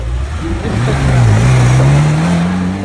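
An off-road vehicle turns around and drives back at an off-road season opening event, its engine a steady drone that climbs in pitch, fairly near and continuous under background noise.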